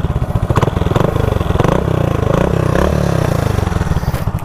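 An old Hero Honda Splendor motorcycle, fully restored, has its engine running close by with a loud, rapid pulsing beat that rises and falls slightly, plus some mechanical clatter, heard without speech.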